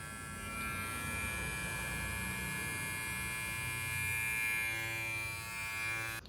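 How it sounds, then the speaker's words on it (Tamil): Bombay Shaving Company beard trimmer running continuously, a steady, even electric buzz with a high whine and a faint vibrating hum, close and alone. "ட்ரிம்மரோட வைப்ரேஷன் சவுண்ட் கேட்கும்னு நினைக்கிறேன்."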